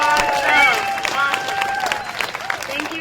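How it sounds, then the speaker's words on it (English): An audience at a meeting report-back gives a round of applause, a dense steady wash of clapping with some voices mixed in throughout. "Can I give a big round of applause for food and sanitation?"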